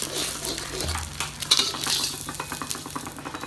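Eggs frying in a pan for egg fried rice, a low sizzle with scraping and clinking of utensils against the pan, close by with no speech.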